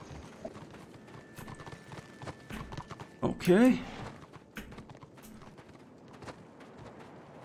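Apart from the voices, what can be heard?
horse hooves clip-clopping in video game Warhammer Online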